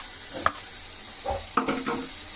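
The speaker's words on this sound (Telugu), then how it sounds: "అది కూడా వేగాలి బాగా ఇలా కలుపుకోవాలి" A ginger, garlic and tomato paste fries in a pan for brinjal curry, with a soft sizzle under a few spoon scrapes and stirring knocks in short bursts.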